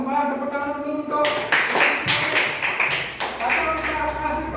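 A third-grade class claps hands in a classroom, with a few irregular bursts of clapping breaking through under steady adult and children's voices.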